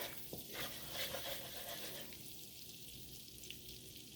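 Butter sizzling in a hot pan, a soft, steady frying hiss with faint stirring, quiet and continuous throughout.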